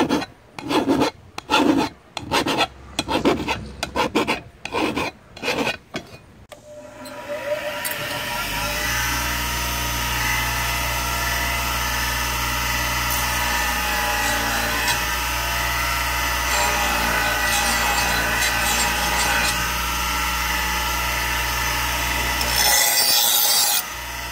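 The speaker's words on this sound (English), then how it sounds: "As you can see, this is the file I'm using. I'm using the flat side." A flat file rasps across a John Deere mower blade, first in distinct rhythmic strokes, then a loud continuous grinding scrape that runs steadily before stopping briefly near the end.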